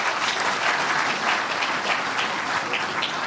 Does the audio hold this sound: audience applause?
yes